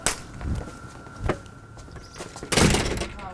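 Someone tries a locked front door: a few separate thuds and rattles, then a louder, longer rattling push near the end, with no voices.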